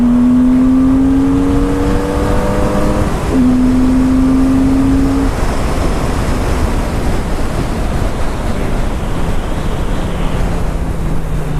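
A Rune cruiser motorcycle accelerates toward the speed limit: the engine note climbs, breaks briefly for a gear change and climbs again, then sinks under heavy, steady wind roar across the microphone.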